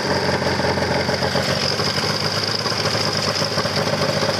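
An old snowmobile with carbide-studded tracks idles with no throttle applied, giving a steady, loud, close mechanical rumble with a faint high whine and no talking.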